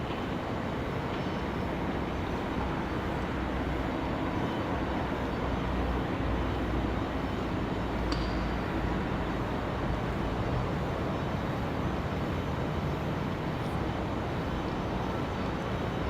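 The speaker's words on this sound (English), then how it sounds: "Ready to hear our A220 spool up and howl out of here." Airbus A220 airliner at Raleigh-Durham International on a windy day, engines spooling up into a steady, loud broadband roar that holds unbroken for the whole stretch, heard alone with no talk.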